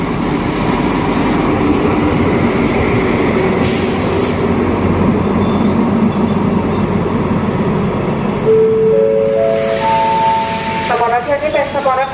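Train moving through Ratchaburi station in Thailand, a steady loud rumble of wagons rolling past with wheel squeal and rising tonal whines near the end, close by, under some background voices.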